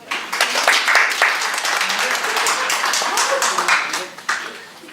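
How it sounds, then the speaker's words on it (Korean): Seminar audience of teachers clapping for a participant. Uneven, fairly close handclaps run throughout, with individual claps standing out. "박수 한번 드릴게요"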